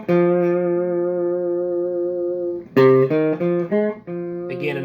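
Electric guitar with effects plays a blues lick in F: a long sustained, slightly distorted note rings out, then a quick run of shorter bent notes follows, loud and close with no talking.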